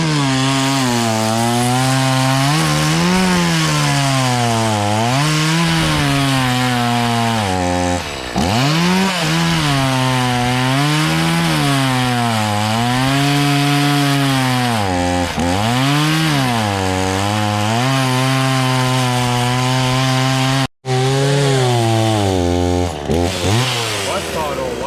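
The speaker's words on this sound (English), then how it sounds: "We're gonna chop them down real quick" A chainsaw revs loudly and steadily, its pitch rising and falling as it cuts down a live tree, running almost continuously with a brief cutoff near the end.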